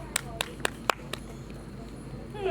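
A handful of separate hand claps at a TV show grand launch ring out at a steady rhythm over a soft background hum, fading after about a second.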